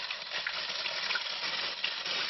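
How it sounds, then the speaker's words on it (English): Water pours steadily onto wet bread bedding in a nightcrawler bin, a soft continuous splashing trickle heard close and fairly quiet. "I'm going to use up probably 2 or 3 cups of water here to get all this to a good moisture again"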